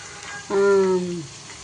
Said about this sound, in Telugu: నేను కొంచెం ఎక్కువే రోస్ట్ చేస్తున్నా